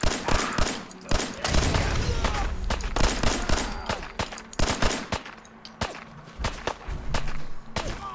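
Gunfire in Fallout 4 during a fight with a raider: a dense run of sharp, loud shots and bursts with echoing crackle, mixed with game ambience and a little talk.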